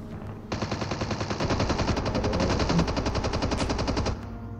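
Sustained automatic gunfire in Call of Duty Mobile, a rapid, evenly spaced stream of shots lasting about three and a half seconds, fairly close and steady, with no talking.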